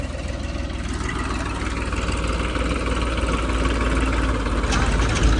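A tractor engine idles steadily at a rice paddy harvest site, a loud, continuous low rumble with an even vibrating chug that holds unchanged throughout.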